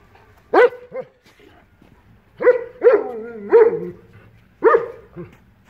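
A dog barks in loud, separate bursts near the listener, several sharp barks with short gaps between them and a whimpering tail on a couple of them. There is no talk.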